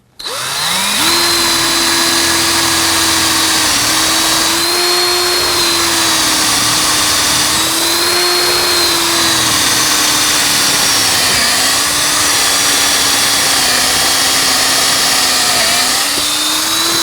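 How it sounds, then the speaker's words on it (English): A power drill whines steadily at a sustained pitch, loud and close, its tone dipping and wavering slightly as it bores into wood. "Drill's really doing some work."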